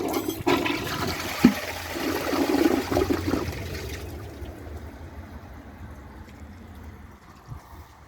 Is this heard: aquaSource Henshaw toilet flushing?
yes